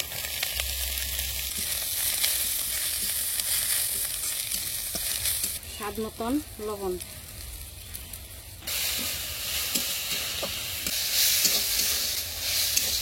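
Chopped jute leaves fry with fried onions in a pan, giving a loud, continuous sizzle and hiss with stirring. A voice speaks briefly partway through.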